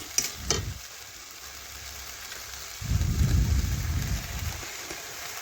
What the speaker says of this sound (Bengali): এইভাবে নাড়াচাড়া করে বেশ কিছুক্ষণ রান্না করে নিচ্ছি